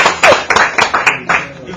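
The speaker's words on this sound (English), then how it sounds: "Everybody give Adam a round of applause" Short burst of clapping in a classroom, several sharp claps in an uneven rhythm from a small group nearby, mixed with cheering voices.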